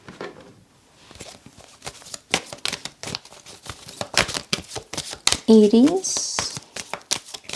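Tarot cards shuffled and drawn in a run of soft, rapid riffling and slapping patter, steady across the stretch and mixed with a person talking throughout.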